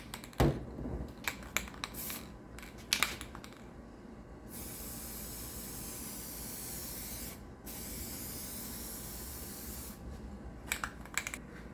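Spray gun laying a top coat of paint on the A pillar of a Jeep Cherokee XJ, with a long, steady hiss running several seconds between shorter bursts, close and fairly loud.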